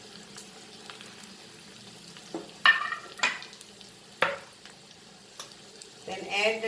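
Spices and chili powder fry in a tadka of oil with chilies, a soft sizzle broken by several scraping stirs of a spoon against the pan.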